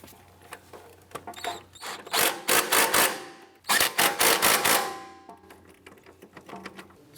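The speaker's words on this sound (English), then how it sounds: "Go ahead and tighten these bolts down." Front subframe bolts on an Acura TL are run down with a power tool, two loud bursts of rapid rattling impact hammering separated by a short pause, with lighter clinks before and after.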